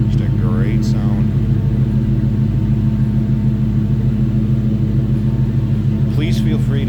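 A 1935 Ford Deluxe street rod idles nearby with a mild, not overly loud exhaust, giving a steady, deep rumble throughout. Brief voices are heard near the start and end.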